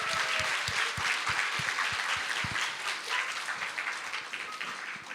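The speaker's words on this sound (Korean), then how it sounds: "우리 아빠들 다시 한번 큰 박수 부탁드립니다." A church congregation claps together in steady, sustained applause that fills the room, fairly loud and dense, slowly thinning toward the end, with no talk over it.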